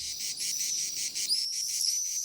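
Cicadas chirp on a fine May evening with swallows flying, a steady high pulsing trill with brief chirps over it, continuous and moderately faint.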